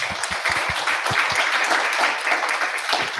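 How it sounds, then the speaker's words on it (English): An audience applauds panelists at the close of a book launch forum, with dense, steady clapping from many hands filling the room at an even level throughout. "Round of applause for them."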